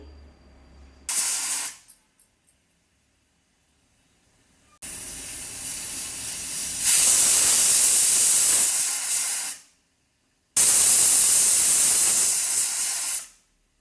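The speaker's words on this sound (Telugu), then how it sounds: "కుక్కర్ విజిల్ కూడా పెట్టేస్తానండి. హై ఫ్లేమ్లో పెట్టాను." A pressure cooker lets off loud, hissing bursts of steam, one short and then two long whistles, separated by silence.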